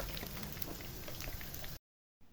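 Dense crackling sizzle of zucchini frying in hot oil, steady and close, cutting off abruptly near the end.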